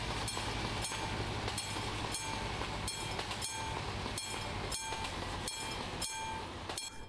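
A passing train at a railway crossing in Euro Truck Simulator, wheels clacking over rail joints in a steady repeating rhythm above a constant low rumble, close and sustained throughout with no voices.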